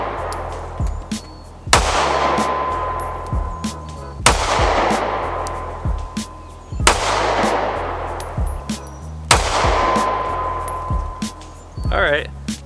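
Four sharp gunshots from a Ruger LC9s striker-fired 9mm pistol, evenly spaced about two and a half seconds apart, each loud and close with a ringing decay, followed by a brief burst of talk at the end.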